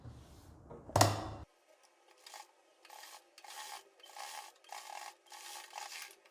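Sewing machine stitching a fabric strip onto a kurti with cream thread: a sharp knock and clatter, then short, evenly spaced bursts of whirring stitches separated by brief pauses, close and clear.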